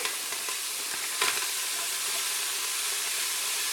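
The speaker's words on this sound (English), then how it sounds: "we start with the usual by frying onions" Steady, close sizzling of one large chopped onion frying without oil in a preheated Instant Pot, with a brief stir partway through.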